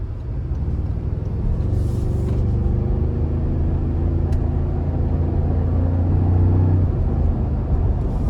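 A 2024 Toyota Tacoma Sport TRD Premium with the 2.4-liter turbo four accelerating out of a corner in sport mode, its engine drone loud and steady and rising in pitch over about eight seconds, heard from inside the cab.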